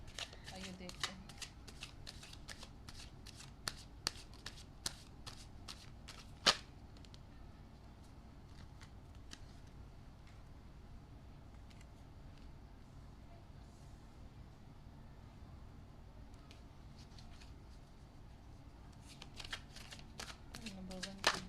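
A tarot card deck being shuffled by hand, faint riffling snaps in quick clusters near the start and end with a quiet stretch between, recorded close in a still room.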